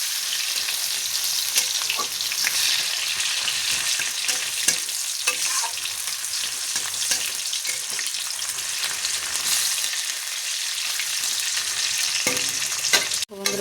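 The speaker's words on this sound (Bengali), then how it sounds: "পেঁয়াজটা ভাজা হয়ে গেছে" Sliced onions fry in hot oil with whole garam masala for a duck curry, a continuous loud sizzle broken by scraping stirs of a spatula against the pan, with no talking.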